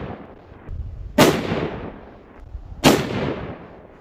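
Two sharp rifle shots fired at a target on a long-range hunting rig, loud and close, about a second and a half apart, each with a decaying echo over quiet outdoor background.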